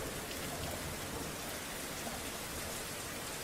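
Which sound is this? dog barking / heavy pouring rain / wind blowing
heavy pouring rain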